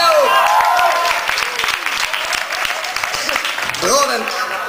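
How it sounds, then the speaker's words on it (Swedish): A concert crowd at Tivoli gives a round of applause, brisk sustained clapping with a voice talking over it near the start and end. "En applåd!"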